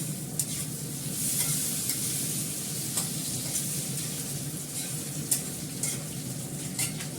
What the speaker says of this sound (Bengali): এবার আমি এর মধ্যে ফোড়ন দেবো মেথি। মেথি ফোড়ন দিয়ে করবো।